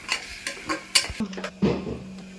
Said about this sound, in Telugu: కొద్దిగా ఉప్పు పసుపు అల్లం వెల్లుల్లి పేస్టు ముక్కలకి పట్టాలా సిమ్లో పెట్టి కొద్దిగా మగ్గనిస్తా